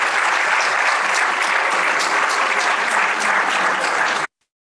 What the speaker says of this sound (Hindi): आप सभी तालियों से स्वागत करें।